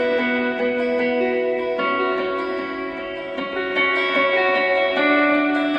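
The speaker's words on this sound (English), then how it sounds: "And then we go to the echo sound," A rig sends an electric guitar through an echo effect, producing ringing repeated notes that cascade in a steady rhythmic delay pattern, loud and sustained with no talking over it.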